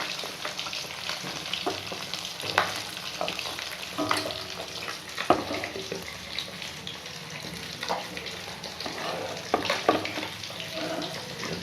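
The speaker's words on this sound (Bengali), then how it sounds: "কই মাছগুলো তেলে ভাজা হচ্ছে, বড় বড় কই মাছ" Large koi (climbing perch) fish deep-fry noisily in hot oil, a dense continuous sizzle with occasional spatters and stirring scrapes, close and steady.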